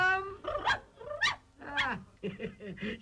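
A dog in a children's puppet show barks and whimpers in several short, rising and falling yelps and whines, fairly close and clear, with voice-like tonal sounds mixed in.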